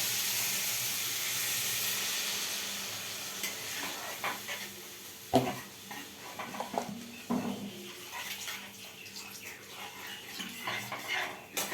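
Water poured into a hot pan to boil potatoes gives a loud, rushing hiss and sputter that fades, followed by scattered clinks and scrapes of utensils against the pan close by.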